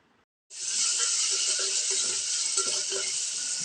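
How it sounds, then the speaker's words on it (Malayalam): Beef fry for a Kozhikode-style dish being stirred in a hot pan, a loud steady sizzle starting abruptly after a brief silence and holding for several seconds with faint scraping and clatter underneath. "നല്ല ഇളക്കി കൊടുക്കുക"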